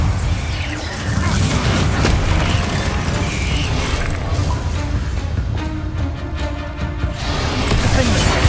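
Bombarda spell blasts in Hogwarts Legacy come through as heavy booming thuds inside busy combat noise. Mechanical clanks and effects sound throughout, with no clear talking.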